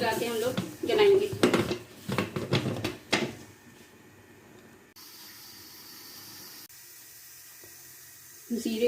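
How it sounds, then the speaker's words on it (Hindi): Someone talks over clattering kitchenware while cooking chicken karahi, then a metal lid clanks onto a cooking pot. Quieter lid and pot knocks follow over a low background hush. "ढक्कन से ढक रही हूँ"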